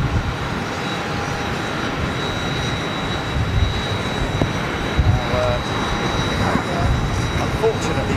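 A British Airways airliner in retro BEA livery rumbles on the airport apron with a broad, continuous jet-engine roar throughout, loud and steady with a faint whine above it.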